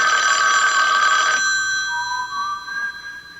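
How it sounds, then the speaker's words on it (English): Bright, insistent telephone bell ringing in an old-time radio drama, one loud sustained ring that cuts off, then a fainter trailing ring continues. "Your phone, Harry."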